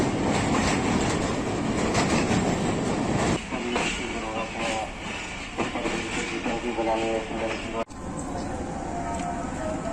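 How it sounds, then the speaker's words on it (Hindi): Allama Iqbal Express of Pakistan Railways at a platform, with a steady loud rumble of rail cars and rhythmic clatter of wheels, continuous throughout with a brief dip near the end. "अल्लामा इकबाल एक्सप्रेस प्लेटफॉर्म पे लग चुकी है।"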